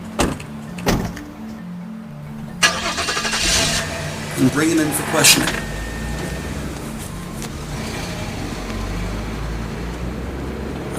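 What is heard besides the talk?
police squad car engine starting and driving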